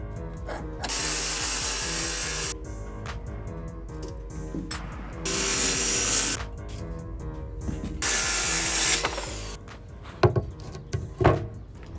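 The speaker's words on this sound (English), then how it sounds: "To make the top, we're gonna cut down this scrap piece that I have." A power saw cuts a scrap piece of wood laid on a pallet, giving three sustained, loud, whining bursts separated by short pauses, followed by a few knocks near the end.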